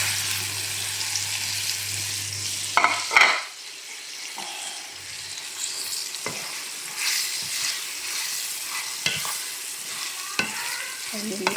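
Amla pieces are tipped into hot oil with fennel seeds and stirred for pickle, giving a steady frying sizzle throughout, with a louder clatter of spoon against pan around the drop and scattered scraping stirs afterward.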